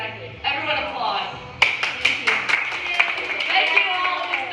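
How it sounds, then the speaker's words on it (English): Audience applause at a Camp Roger camp gathering, with a burst of scattered clapping that thickens into steady applause after a brief lull, mixed with voices and cheering. "Everyone applaud."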